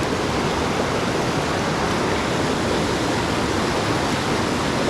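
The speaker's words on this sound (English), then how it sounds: "You see over there, all this water pushes up against that rock." Steady, loud rush of river water surging against a rock in a trout stream, a dense broadband roar that holds constant throughout with no voices.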